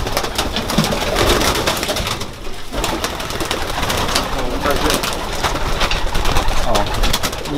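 Racing pigeons coo steadily inside a pigeon loft, a dense, continuous murmur of many birds heard close and loud throughout.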